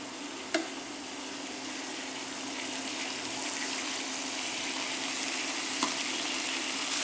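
Beef strips sizzle steadily in a hot pan for a burrito. The frying hiss stays fairly quiet and even, with a couple of brief clicks from handling.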